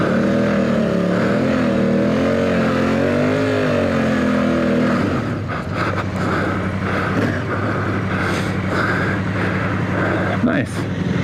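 Loud dual sport motorcycle engine on Continental TKC70 tires revving close up, its pitch rising and falling, then settling into a rougher, choppier drone as the ride continues.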